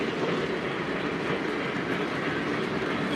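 O-gauge model train running on layout track, a steady continuous rumble with faint clickety-clack of wheels over rail joints, close and unbroken throughout.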